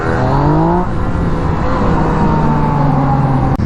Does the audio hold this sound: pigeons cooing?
no